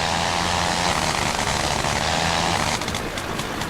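A WWI rotary aircraft engine in the flight game Rise of Flight drones loudly and continuously up close, with a rough propeller buzz that shifts into a stuttering, pulsing tone near the end.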